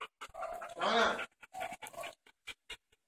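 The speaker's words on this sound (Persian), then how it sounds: "همینجور که میدین تعداد زیادی متاسفانه سگن که بدون هیچ امکاناتی اینجا" Several dogs at a poorly equipped animal shelter pant and whimper close by in short, uneven bursts, with a longer panting stretch in the middle.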